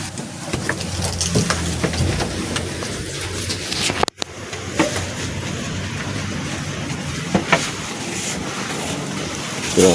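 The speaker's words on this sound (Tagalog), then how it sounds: "ang lakas ng hangin dito" Strong typhoon-force wind buffets and roars across the microphone in gusts, with water and rustling underneath and a sharp knock midway.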